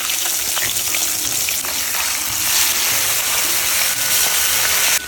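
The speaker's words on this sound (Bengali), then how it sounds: "তেল গরম হয়ে গেছে, আর মাছ দিয়ে দেবো" Sarputi fish fry in hot oil with a loud, continuous sizzle and spatter that holds steady throughout, close to the pan and with no talking.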